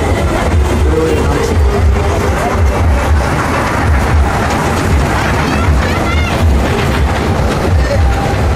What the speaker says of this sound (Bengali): ট্রেন দেখাচ্ছি আপনাদেরকে।